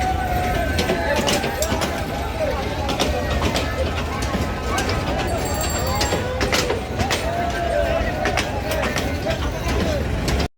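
A long passenger train of seven or eight coaches, crowded with people, rumbles steadily and loudly throughout, with a dense wash of crowd babble and rail noise and occasional squealing tones.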